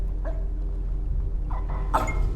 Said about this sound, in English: we're just looking for the dog to be barking